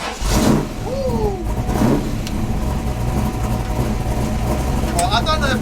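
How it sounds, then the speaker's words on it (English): A 750bhp Mk1 Ford Escort revs hard through a burnout, its engine roaring loud and close in a continuous howl with squealing overtones, while excited shouting rises over it. "But that is a proper burnout."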